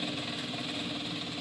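An industrial sewing machine runs fast with a loud, continuous whirring drone, steady and close, with no pauses.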